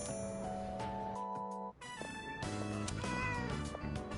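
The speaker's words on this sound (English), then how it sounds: "Was that a cat's meow?" A cat in the Persona 3 Reload video game gives several clear, close meows over light background music and chimes.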